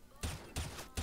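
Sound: gunshot fired through a wall in video game CS:GO

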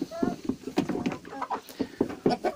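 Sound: hens clucking while eating

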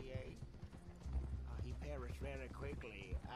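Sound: horse hooves trotting in Red Dead Redemption 2 video game

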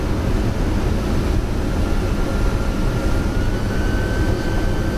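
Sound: Boeing 747-200 jet landing, heard from cockpit

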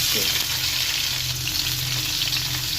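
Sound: fish frying in hot oil

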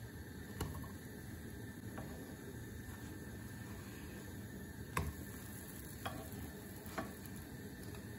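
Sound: raisin and sesame pancakes sizzling in a frying pan

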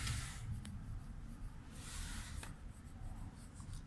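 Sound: pencil shading on a marker sketch

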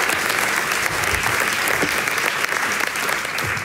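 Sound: audience applause welcoming guests

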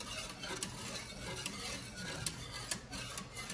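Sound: stirring banana pudding in a nonstick pot

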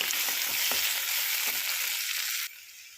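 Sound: curry with ginger garlic paste frying and being mixed

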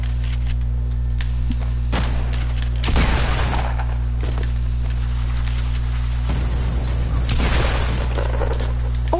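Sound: revolver shot in a video game

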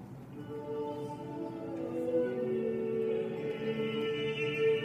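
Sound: medieval rondeau music recording

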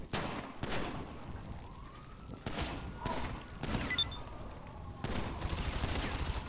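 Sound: gunfire from shooting at the ground in Grand Theft Auto V video game

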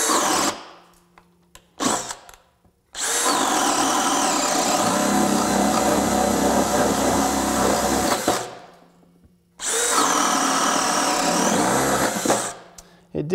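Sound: DeWalt DCD800 drill boring a hole with 1½-inch spade bit

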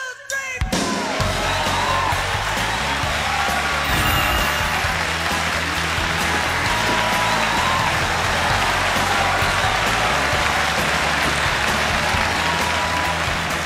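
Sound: applause welcoming Duan Xiaodong on stage

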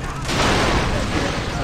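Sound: gunfire from the video game Far Cry 3

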